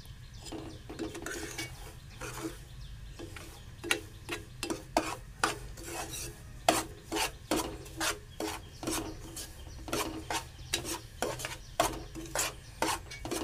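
Dry semolina (rava) being roasted and stirred in a pan, a steady run of scraping, rasping strokes of a spoon across the grains at a brisk, regular rhythm, close and clear over a low background hum with no voices.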